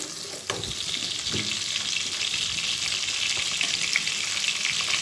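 Shallots, green chillies and curry leaves frying in a pan for a nei meen karuvadu kulambu, a loud, constant hiss of sizzling oil with a couple of stirring clatters near the start.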